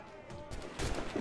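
Ship cannons fire in Assassin's Creed Rogue, giving a couple of deep, close booms that rumble into each other over a brief stretch, with a low music bed underneath.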